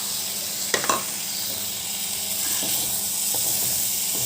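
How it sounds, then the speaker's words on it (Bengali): Parboiled moringa drumsticks and potatoes tipped into a hot pan of lightly fried spices with a brief clatter, then a steady close sizzle as they are stirred. "ঢেলে একটু নাড়াচাড়া করে নেবো।"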